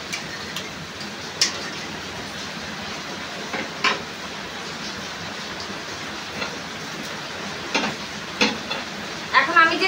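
A mixture seasoned with salt and sugar is stirred in a pan over a low, steady sizzle, with occasional sharp scrapes and taps of the utensil scattered through; no one speaks.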